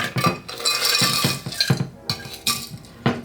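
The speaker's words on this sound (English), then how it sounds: "Now I'm gonna add my ice." Ice cubes tumble into a cocktail glass while a martini is mixed, giving a burst of clinks and rattles, then several sharper separate clacks as more cubes drop in close by.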